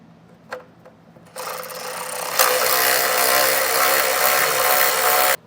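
A power tool and deep well socket loosen long studs behind the wheel well liner of a 2023 Ford Maverick, a loud steady whirring drone that starts after a short lead-in and runs nearly unbroken to the end.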